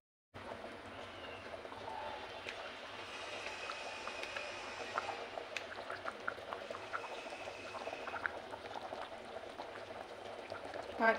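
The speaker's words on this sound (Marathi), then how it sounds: "आपल्या भाजीला उकळी पण आलेली आहे." A pot of chickpea curry (chole) simmers at a steady boil, with continuous soft bubbling and popping that holds at moderate loudness for the whole stretch, close by and without talk.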